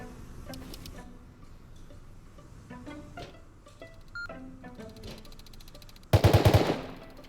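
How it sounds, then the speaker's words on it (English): Rapid, loud mechanical hammering from a jackhammer tearing into a player's boat in the console version of Rust, bursting in near the end after a stretch of quieter ticking and clicking game sounds. "that jackhammering sound was him destroying my boat"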